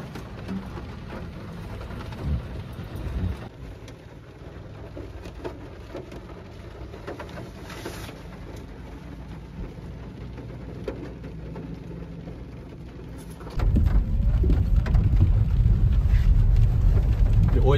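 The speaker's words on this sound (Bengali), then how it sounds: "বৃষ্টি হয়েই যাচ্ছে" Rain falling at a roadside coffee stop off a state highway near the West Bengal–Jharkhand border, a soft steady patter that suddenly grows into a louder, heavier downpour near the end.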